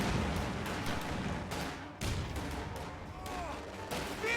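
Distant, muffled bursts of machine gun fire and booms from a real-time strategy video game battle rattle steadily at low volume.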